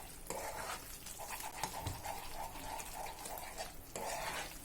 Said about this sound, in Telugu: ఇప్పుడు హల్వా రెడీ అయిపోయింది కాబట్టి కంటిన్యూస్గా కలుపుతూనే ఉండాలి